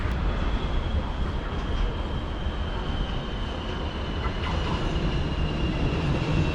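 KTM commuter train at Bandar Tasik Selatan station in Malaysia, a continuous loud rumbling roar of rolling wagons with a faint steady high whine over the noise and no pauses.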